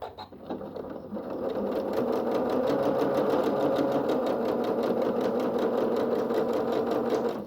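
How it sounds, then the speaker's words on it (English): A sewing machine with twin needles and a pintuck foot, tension raised to 7, runs steadily and close up, a continuous fast mechanical whir and rhythmic clatter after a brief start. "I've put the pin tucking foot on and I've increased my tension on my machine to 7."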